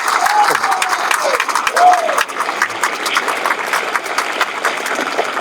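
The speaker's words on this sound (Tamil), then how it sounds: "ஒரு நல்ல கைத்தட்டு கொடுங்க சார்" Audience applause for an auditor at a Tamil pattimandram debate event, a steady dense clapping from a crowd lasting throughout, with a speaker's voice faintly over it.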